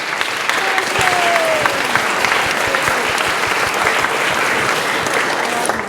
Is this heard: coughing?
no